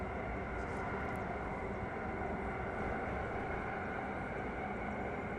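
In Train Simulator Classic, a train rolls along with a continuous low rumble and steady track noise at an even level throughout, with no breaks or distinct clicks.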